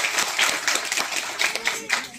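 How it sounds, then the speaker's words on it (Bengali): A small group claps briefly for children who have inflated balloons at a science museum, a light patter of hands with some background voices. "ওদের জন্য একটু হাততালি হয়ে যাক"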